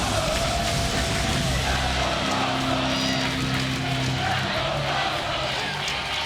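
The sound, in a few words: wrestling crowd cheering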